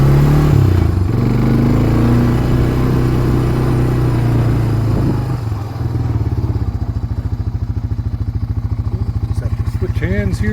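A Honda 300 ATV engine runs steadily while being driven in reverse down a driveway, with a low, even rumble that settles into a rapid, regular idle-like pulse. Talk is heard over the motor.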